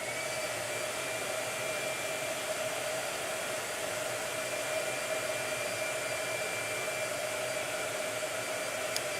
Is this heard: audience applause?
no